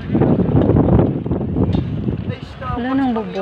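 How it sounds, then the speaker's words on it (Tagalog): Very strong wind buffets the microphone at an outdoor Sunday market in a caravan park, a loud, steady, low roar. A person speaks over it. "Grabe yung hangin. Super hangin."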